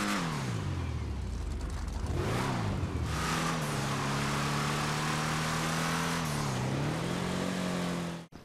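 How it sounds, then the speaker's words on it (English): A sports car in the racing game GTA Online revs and winds up to full speed, its engine droning with a slightly tinny, raspy exhaust note as pitch swells, dips and climbs again before cutting off abruptly. "You can hear the slight tinny raspiness from the exhaust, and especially when the car's screaming at full speed."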